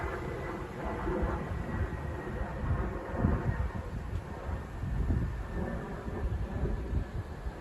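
Strong gusty wind buffeting outdoors under large cumulus clouds, a continuous broadband roar and rumble that swells and eases in gusts with heavy low-frequency microphone buffeting.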